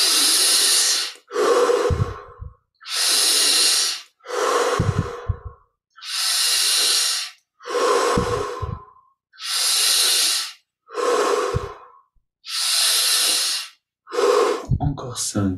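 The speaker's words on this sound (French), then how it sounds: "Et on remet ça directement avec 10 respirations profondes." Deep, forceful breaths in a guided Kriya Yoga meditation, a close, rhythmic series of about a dozen long airy inhales and exhales separated by short silences, with occasional soft snorts.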